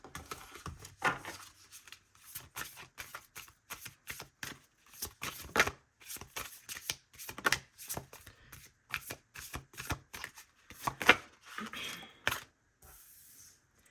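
A deck of oracle cards is shuffled by hand in a quiet room, with repeated crisp riffling bursts and soft card slaps in an uneven rhythm over about fourteen seconds.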